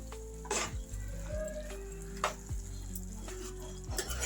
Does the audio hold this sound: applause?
no